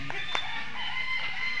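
Chickens at a wildlife rehabilitation centre cluck and give short crowing calls, fairly close over steady background noise, with no talk.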